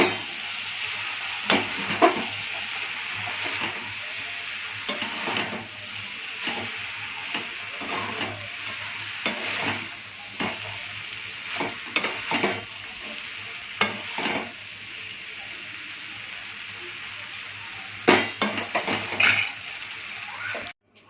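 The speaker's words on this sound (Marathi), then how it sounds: "आता आपण हलवून घेऊया" Veg soy noodles are stirred in a pan over a continuous frying sizzle, with repeated metallic scrapes and clinks of a utensil against the pan coming in irregular bursts and close up; there is no talk.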